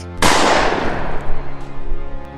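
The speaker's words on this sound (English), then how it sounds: "The sound of the gunshot briefly echoed" One sharp, loud revolver gunshot cracks suddenly and then rings out in a long, decaying echo that fades over about two seconds.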